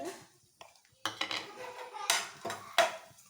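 Raisins and dried coconut roasting in a pan for dry-fruit laddu, with sparse clinks and scrapes of a spoon against the metal in short bursts between quiet gaps, close and fairly soft.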